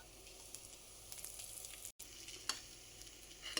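Boiled eggs get stirred into a sizzling spiced masala in a pan for a Guntur-style egg fry, a soft continuous frying hiss with light scraping stirs and small spatters, faint and without talk.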